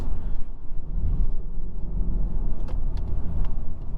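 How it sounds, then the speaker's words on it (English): A 2022 Mazda 3 Turbo hatchback with its turbocharged engine drones at a steady low rumble from inside the cabin, with faint brief whooshes near the end. "And the turbo noise, you can hear that."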